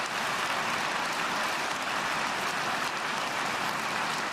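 Steady, dense applause from a crowd fills the space evenly, a continuous hiss of many hands clapping at constant loudness with no talking over it.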